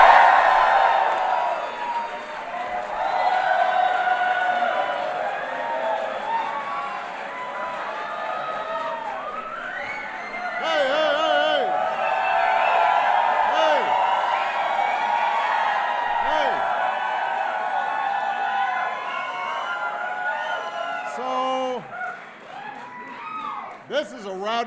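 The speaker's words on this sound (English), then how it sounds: "This is a rowdy crowd." A rowdy crowd at a 2015 White House Pride Month reception cheers and whoops loudly and steadily for about 24 seconds, with shrill yells and whistles rising above the roar and no one speaking over it.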